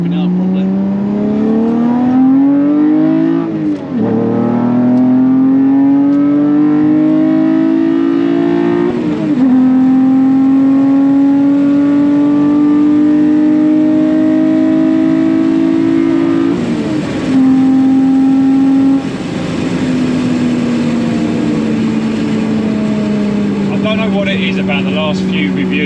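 A Toyota MR2 fitted with a swapped-in 3.5 V6 accelerates hard, its engine note climbing steadily through the gears with brief dips at each shift, loud and close throughout.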